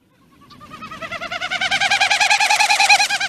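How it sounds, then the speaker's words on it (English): Outer tail feathers of a diving bird winnow in a display dive, a rapid, pulsing tremolo that swells from faint to loud and holds at a steady fast pulse, heard alone and fairly close. "as it's dropping in a display, it makes this sound they call winnowing"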